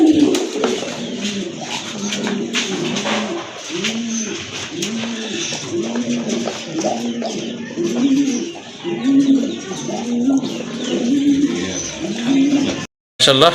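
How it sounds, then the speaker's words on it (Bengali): Pair of red pati pigeons cooing close up, repeated rolling coos in a steady rhythm, with other birds chirping in the background and someone talking over them. "আরেক জোড়া কবুতর লাল পাতি"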